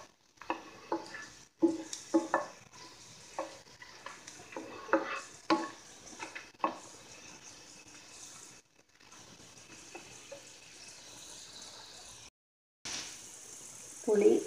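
Onion, red chilli and tamarind sauté in a pan for a chutney, with intermittent stirring scrapes and clinks over a soft, low sizzle and short pauses between strokes.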